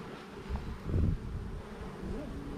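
Honey bees swarm around an opened hive during a June hive check, a steady low buzzing that swells briefly near the middle, mixed with light wind and no clear talk.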